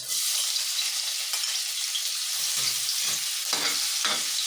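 Garlic frying in a pan for a mung bean dish: a steady hiss of sizzling oil with occasional scraping stirs, close and continuous.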